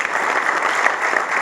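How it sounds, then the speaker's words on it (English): Audience at a logo unveiling on stage gives a brief, steady round of applause, dense and close, with no break. "Can we give a round of applause once again?"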